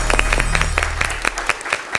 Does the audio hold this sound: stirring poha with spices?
no